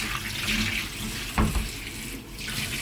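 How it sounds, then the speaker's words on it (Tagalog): Vegetables being rinsed under a running kitchen tap into a sink: a steady close rush of water, with a brief louder splash partway through and no talking. "Hugasan na natin ng ilang beses."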